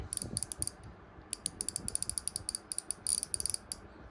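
Wera 8004A 1/4 inch steel ratchet handle clicking, bursts of fine rapid metallic ratcheting clicks, close and crisp, repeated in quick runs.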